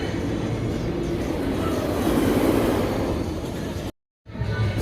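Wildcat's Revenge roller coaster cars at Hersheypark rumble along the track in a continuous loud roar that swells and holds, then cuts off abruptly and resumes.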